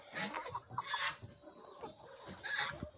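Young pullet hens cluck softly in a henhouse, a steady scatter of short calls at close range with no talk over them.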